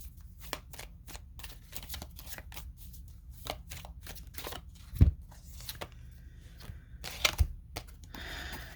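Letter dice rolled during a tarot-style reading, heard as a quiet, irregular patter of small clicks and rattles across the clip, with a couple of sharper knocks as the dice land.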